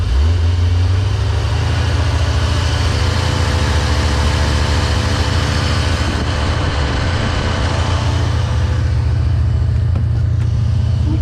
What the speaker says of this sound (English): Car was idling like this. Okay, just took the throttle.